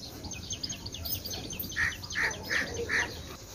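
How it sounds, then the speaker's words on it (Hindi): Several short bright bird chirps repeat in a loose rhythm, fairly close, over a steady outdoor background hiss. "यहाँ पर चिड़िया आ गई हैं"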